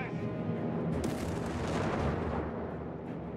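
Artillery fire in the video game Company of Heroes 3, North Africa campaign, booms heavily and continuously in a dense, rumbling barrage with a sharp blast near the middle, loud and close, with battlefield voices mixed in.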